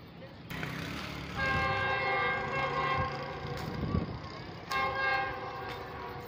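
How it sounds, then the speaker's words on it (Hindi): Karakoram Express train passing with its whistle sounding in long harmonic blasts, alongside a steady rumble of rail cars at moderate distance. "GU40 کی لائٹس اور وسل سنائی دے دیے گئے ہوں گے آپ کو۔"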